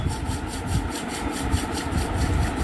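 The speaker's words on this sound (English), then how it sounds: "Slowly rub your palms" Rhythmic, close rubbing of two palms together, a fairly loud, steady swishing friction with regular strokes and no talk.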